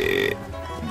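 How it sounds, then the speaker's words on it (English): Guttural toad giving a single short, deep croaking call, loud and close, cut off abruptly and followed by low background noise. "Guttural toad."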